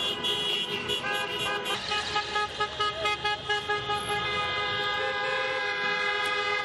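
Celebratory car procession through Gori at night, with many car horns honking in long overlapping toots and short repeated beeps against steady traffic noise, no one talking.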